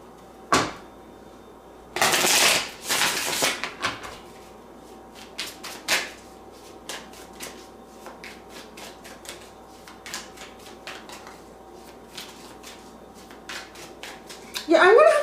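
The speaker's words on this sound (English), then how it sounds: "It's like I'm out of practice shuffling the cards." Tarot cards being shuffled by hand: a burst of riffling near the start is followed by a long run of soft, irregular clicks and taps of cards being handled close by, ending in another brief shuffle.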